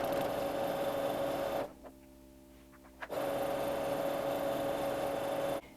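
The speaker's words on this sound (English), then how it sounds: "you're just going to sew a straight stitch along one edge of your fabric" A sewing machine runs a straight gathering stitch along one edge of T-shirt fabric with a steady whirring buzz. It pauses for about a second and a half, runs again, and stops briefly near the end. No voices are heard.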